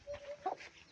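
A chicken clucks briefly near its coop, a short run of close, moderately loud clucks with no talking.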